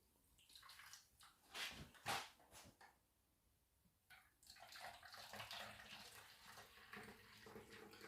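Liquid pours and gurgles in short irregular bursts, then settles into a steadier trickle; quiet and close, with no voices.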